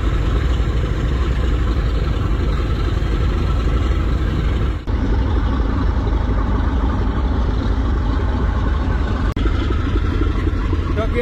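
The new Barisal passenger launch ship MV M Khan 7 pulls out of a dockyard on its first river trial, its engine a loud, steady low drone that continues throughout while someone speaks over it.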